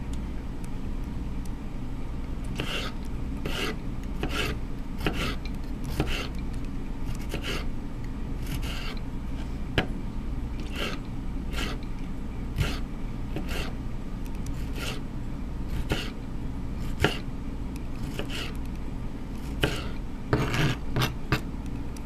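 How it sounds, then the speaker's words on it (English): A knife chopping tomatoes on a cutting board for green chile chicken enchiladas, with repeated short cutting taps at an irregular pace over a low steady kitchen background hum. "get those tomatoes chopped up there"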